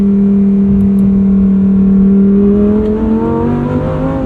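A red 631-horsepower Lamborghini engine drones loud and steady under hard acceleration in sport mode, its pitch rising toward redline before dipping slightly as it upshifts, heard from inside the car.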